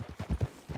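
Horse hooves clip-clopping in Red Dead Redemption 2, a few quick, evenly spaced muffled thuds at a walking pace, close and fairly soft, with no talking.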